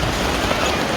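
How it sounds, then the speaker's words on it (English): Steady rain pours down on a wet day, a dense, even patter of drops hitting surfaces close by with no break, and no voices heard. "Still it rains."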